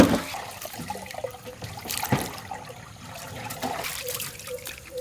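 Water pours and trickles into a cooking pot while chicken is being prepared, a low, splashing stream under quiet outdoor kitchen background noise, with a few sharp clatters along the way.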